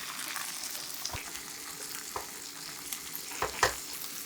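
Egg mixture sizzles steadily in a frying pan while a tuna-filled rolled omelette is shaped, with a few sharp clicks of a utensil against the pan and no talking.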